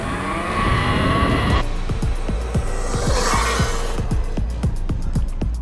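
A car on a top-speed run in its fastest mode and highest gear, its engine roaring loud and steady throughout while a regular ticking or clicking pulses beneath it.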